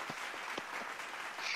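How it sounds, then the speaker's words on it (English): Brief, fairly faint applause from an audience at a school science, math and technology month culmination ceremony, a short burst of scattered clapping lasting under two seconds. "Please give them a warm of applause."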